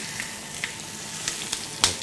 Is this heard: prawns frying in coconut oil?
yes